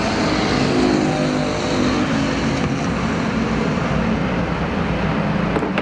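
Factory stock race cars circle Perris Auto Speedway in an American Factory Stock main event, a steady continuous engine roar from several cars blended with distant track ambience, loud throughout with no clear pass-by peaks.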